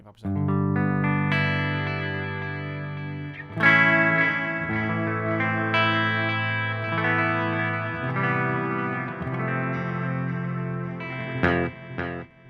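Electric guitar run through a delay effect with reverb, sustained chords and notes repeating and trailing off in echoes, loud and close throughout with a brief swell near the end.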